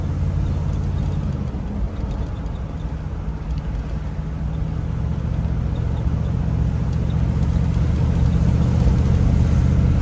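A steady, low V8 engine rumble from inside a moving 1957 Chevy Bel Air restomod at about 41 mph, droning continuously with a slight rise in intensity partway through.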